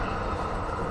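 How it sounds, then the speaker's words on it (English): A train rumbles past outdoors near a lawn, a brief, dense, steady roar filling the moment without any voices. "Train!"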